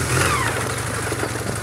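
A Honda CBR 450 SR motorcycle engine runs steadily close by, a loud, continuous mid-pitched drone that holds without any clear revving for under two seconds.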